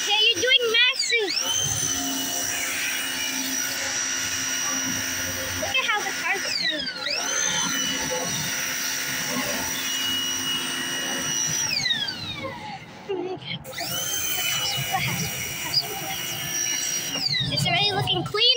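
A power washer sprays a Kia EV6 car, a loud steady hiss with brief sweeping changes in pitch as the jet moves, running throughout while people talk excitedly over it.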